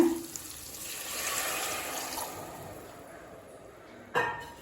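Coconut milk pours and swirls into a pot, a soft close trickling wash that fades out, ending with a brief clink of a utensil.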